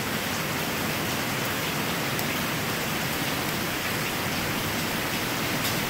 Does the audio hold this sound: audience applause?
no